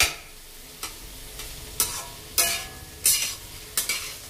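Sliced ivy gourd frying with onions in a pan, a steady soft sizzle broken by about six sharp spatula scrapes and knocks against the pan at uneven intervals, close and clear with no speech.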